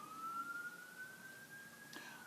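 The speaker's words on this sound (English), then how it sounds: "so that all this siren will stop" An emergency vehicle siren wails outside in a slow, rising tone, faint and distant, over a low ambient hum.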